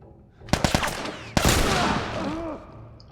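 Gunfire in The Last of Us, a quick burst of three sharp shots followed by one heavier blast with a long ringing tail, close and loud.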